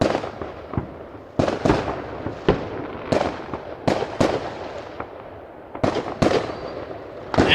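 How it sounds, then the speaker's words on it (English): Fireworks burst in the video game Ova Magica, about a dozen sharp, loud cracks and booms arriving at uneven intervals with crackling tails in between. "The rhythmic sound of the fireworks exploding reminds you of the ticking of time."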